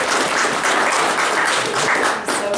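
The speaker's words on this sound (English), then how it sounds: "it is great to have the crowd cheering in the background as well" Dense, loud clapping rolls through the audience at a Chester County SPCA ceremony, a steady wash of many hands with no break across the short stretch.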